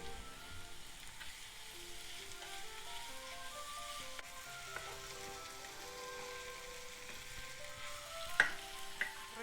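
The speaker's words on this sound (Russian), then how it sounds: "морковь с луком обжарилась" Carrots and onions with tomato paste fry in a pan, a steady close sizzle with occasional louder pops and crackles, no voices.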